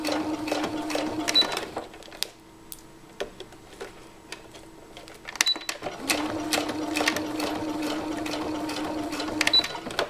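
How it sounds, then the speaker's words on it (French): Sewing machine stitching fabric with a Teflon presser foot, rapid steady mechanical ticking in two bursts separated by a quiet pause, with someone speaking softly in French over it. "je lève mon pied, je tourne mon tissu et je poursuis ma couture."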